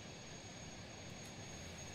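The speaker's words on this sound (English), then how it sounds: "Planes are rolling in." Airplanes arriving in Transport Fever 2 give a low, steady jet-engine roar that stays faint and even throughout, with no other sounds over it.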